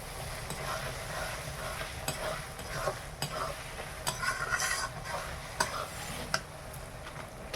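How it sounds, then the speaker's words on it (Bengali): Turmeric powder being stirred into fried ginger and garlic in a pan for a red chicken curry: continuous soft sizzling under repeated spoon scrapes and light metal clinks, close and steady, with no speech. "হলুদ গুঁড়োটা দিয়ে একটু ভালো করে নেড়ে নেই"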